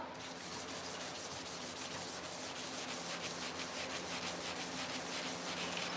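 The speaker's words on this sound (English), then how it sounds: "I can scuff the whole thing about as fast as you can do it with a DA" Scotch-Brite pad scuffing the 2-inch cowl hood of a 1987 C30 by hand, giving a steady, close rubbing and sanding rasp in quick repeated strokes, with no talking.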